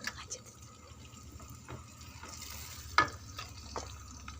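Fish masala cooking on low heat in a pan for Pakistani machli ka salan, a faint sizzle under scattered stirring scrapes and one sharper clink of a utensil against the pan.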